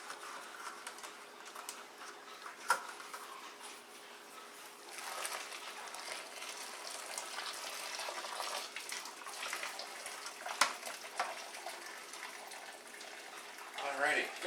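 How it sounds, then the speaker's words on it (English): Hot pale ale wort drains from a bag of hops, a steady splashing hiss of liquid running into a pot with a few sharp knocks and a clatter near the end. "gonna let the hops drain out there while I get the extract"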